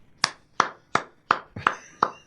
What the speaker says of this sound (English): Or was that a golf clap?